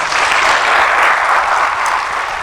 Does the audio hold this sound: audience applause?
yes